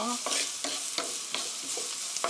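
Onion and garlic stir-frying in a pan for orange chicken, a bright steady sizzle broken by quick spatula scrapes roughly every third of a second, close and clear with no one speaking.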